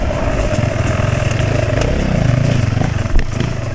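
A single-cylinder motorcycle is ridden on a New Year's Eve group ride. Its engine holds a loud, close, steady pulsing drone under load, with a brief clattering bump near the end.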